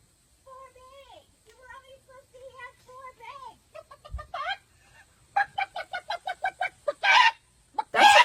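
A voice imitates a chicken, starting with soft clucky syllables and building into a rapid, louder run of squawky clucks and bawks.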